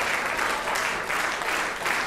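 Audience applause at a concert, a dense, steady clapping from a full hall that continues evenly throughout.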